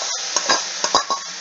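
Dried red chillies are stirred in a cooking pan, a utensil scraping and knocking against the metal in several uneven strokes, close up over a bright, steady sizzle.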